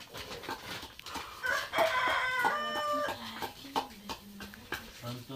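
Chickens cluck and squawk nearby, with a rooster-like crowing call in the middle, mixed with people talking and household noise in the background.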